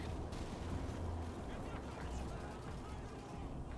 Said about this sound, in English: Ooh, shell shock.